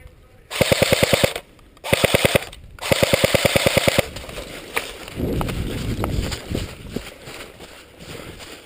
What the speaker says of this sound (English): Mike, fire when ready.